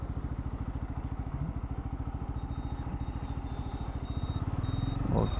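Bajaj Pulsar N250 motorcycle, 2023 Dark Edition, rolling in first gear on the clutch without throttle: a steady, close, rhythmic single-cylinder thump, with no talk over it.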